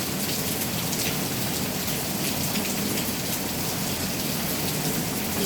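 Heavy rain pours down steadily, a dense, loud, unbroken hiss of drops hitting surfaces close by, with no voices.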